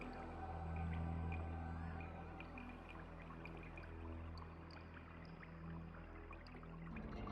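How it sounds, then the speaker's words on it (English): A NASA sonification of the spiral galaxy Messier 74, with its background stars rendered as water-drop sounds: bright, scattered plinks float over sustained, whale-like tonal drones and a low hum. "The background stars in the optical image have been converted to water drop sounds in the sonification."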